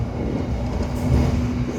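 The Gajayana passenger train rumbles along as a steady, moderately loud interior drone with a faint tonal hum and a brief swell partway through, no voices.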